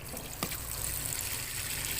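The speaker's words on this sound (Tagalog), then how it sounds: "Mahina po ang tubig." Weak, thin stream of tap water running into a washing machine at a laundry service, a soft steady trickle that continues alone throughout with no talk.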